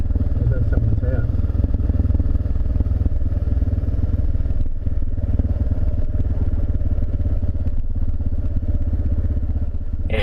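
A loaded motorcycle rides along a road from Perth toward North Dandalup, its engine droning steadily with wind buffeting over the top, a constant close rumble throughout.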